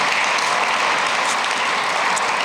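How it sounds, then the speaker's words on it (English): A loud, dense round of audience applause at a celebration honoring a village mayor's 42 years of service, steady clapping throughout with no talk over it. "One more applause for that"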